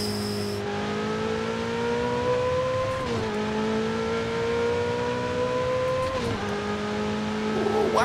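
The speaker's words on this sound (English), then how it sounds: "Oh my god, the turbos, I can hear them. They sound mean." A turbocharged 1400 hp Ferrari J50 in Forza Horizon 5 revs loudly and steadily, its engine pitch climbing in long pulls and dropping sharply at each gear shift, with a whooshing turbo edge near the end.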